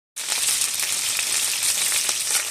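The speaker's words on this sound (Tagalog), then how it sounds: "And then, ipapry." Marinated chicken wings seasoned with garlic and black pepper fry in hot oil, giving a loud, dense, continuous sizzle that starts abruptly and holds steady with small crackling pops.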